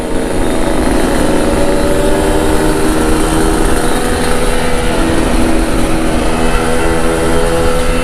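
A motorcycle with an aftermarket exhaust running close and loud, its engine holding a steady, throaty drone with no breaks from start to finish.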